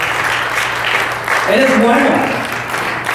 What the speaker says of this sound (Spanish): denle un aplauso al Altísimo